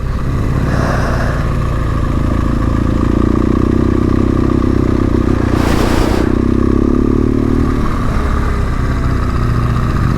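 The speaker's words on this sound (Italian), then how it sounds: "Sentite la ventola del radiatore come si accende" A car engine drones steadily at 98 degrees coolant temperature while the radiator cooling fan whirs on, rising and holding in the middle, with a brief hissing burst partway through.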